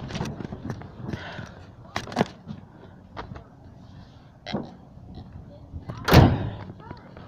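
A truck's back door slams shut with a loud thud near the end, after scattered knocks and thumps, with people talking faintly at the start.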